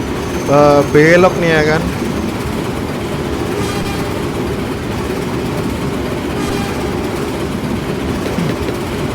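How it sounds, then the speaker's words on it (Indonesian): A train in the Indonesian railway simulator INCORAILS runs with a continuous loud, low engine rumble and steady rail noise. Someone talks briefly near the start, and the drone carries on alone for the rest. "Dan di sini ada kereta api, nggak tahu itu kereta api apa"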